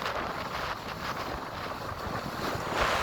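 Strong wind rushes and buffets the microphone in a steady roar, rising slightly toward the end.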